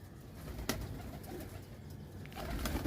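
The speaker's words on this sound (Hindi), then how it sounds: "मैं जाल में छोड़ दिया करता हूँ कबूतर" Breeder pigeons kept in a net enclosure give a soft, low coo against a quiet background, with a faint flutter partway through.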